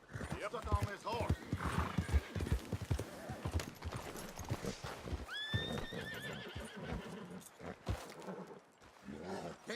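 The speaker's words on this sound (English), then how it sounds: "Stuck on this horse." Horse in the video game Red Dead Redemption 2 gives a loud whinny over steady clip-clop hooves, with game characters talking throughout, a rising shrill neigh standing out midway.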